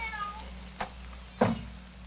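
A cat shut inside a bedroom meows twice, two short, faint calls about half a second apart over a quiet humming room.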